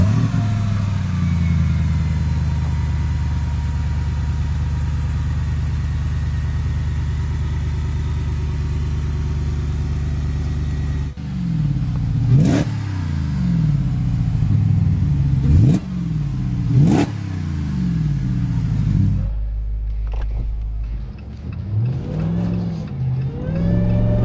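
A 1,025 HP AMW Dodge Demon 170-powered Gladiator drones steadily while driving, then several sharp revving bursts and hard accelerations rise and fall in pitch, loud and close.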